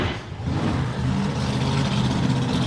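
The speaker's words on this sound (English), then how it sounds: "Burn those tyres, put a bit of heat into them." A blown-engine drag car does a tyre burnout at a nostalgia drag racing meet, a loud steady engine roar building from a slight dip to a sustained rumble.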